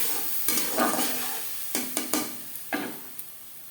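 A paste of ground tomato, ginger and green chilli fries in a pan with a soft, steady sizzle, punctuated by several sharp scraping knocks from stirring.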